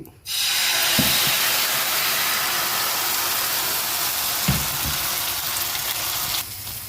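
Dragon fruit dosa batter hits a hot pan and sets off a loud, steady broadband sizzle and hiss that holds for several seconds, with a couple of soft knocks and no talk.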